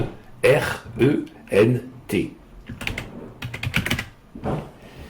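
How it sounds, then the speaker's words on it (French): Keystrokes on a computer keyboard as a town name is typed, a run of short taps in uneven bursts heard close up, with a voice speaking over and between them. "je vais taper Séran, S-E-R-E-N-T"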